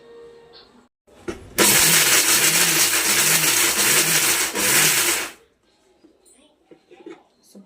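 A mixer grinder roars loudly as it grinds homemade protein powder, starting abruptly, running steadily with a cyclic churning pulse for about four seconds, then cutting off to quiet handling noises.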